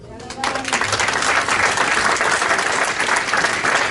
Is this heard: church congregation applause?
yes